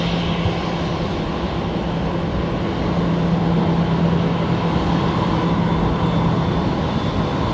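Jetstar airliner bound for Melbourne on its takeoff roll at Brisbane Airport at night, a loud steady engine roar holding evenly throughout, with no voices.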